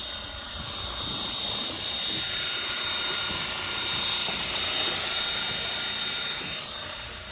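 18V Makita cordless drill rigged as a boat's outboard motor, giving off a steady high whine with a watery hiss, close and fairly loud, ramping up at the start and tapering off at the end.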